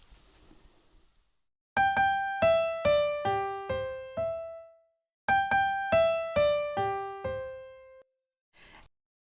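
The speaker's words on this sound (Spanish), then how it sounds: "La derecha realiza el acompañamiento arpegiado y es la mano izquierda la que desarrolla la melodía en el agudo." Two matching phrases of clear piano notes from Beethoven's Waldstein Sonata, Op. 53, each stepping downward in an even rhythm with a short pause between them, played quietly and alone.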